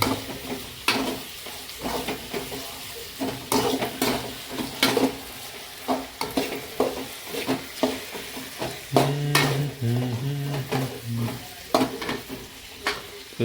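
Onions fry in a pan for onion chutney while being stirred, giving a steady sizzle with repeated scraping and clattering strokes of the spoon, close up.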